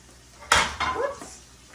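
Garlic drops into a hot pan with a sudden sizzling hiss, followed by a brief metallic scrape and clatter as it is stirred in. Short and close, with no talk.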